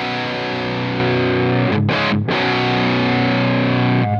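A heavily distorted electric guitar through a simulated Mesa Boogie Triple Rectifier amp in modern mode chugs loud and dense, sustained chords with a brief choppy break in the middle and no voice.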